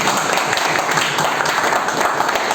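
A large audience at a stage event gives loud, sustained applause, a thick, continuous roar of clapping held at full strength throughout with no speech over it.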